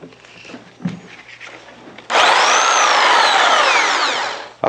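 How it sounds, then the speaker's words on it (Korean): A jigsaw cutting into wood, first faint handling noise and then a loud, steady buzzing saw cut that starts abruptly and runs for a couple of seconds up close. "아까와 마찬가지로 톱날을 완전히 작동시킨 다음에 목재에 대면 되겠습니다."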